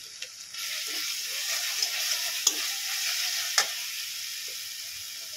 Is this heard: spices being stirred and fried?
yes